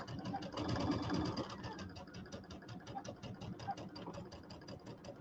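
A sewing machine pieces a quilted table topper, its needle chattering in a rapid, even rhythm close by, slowing and pausing briefly while a person speaks quietly over it.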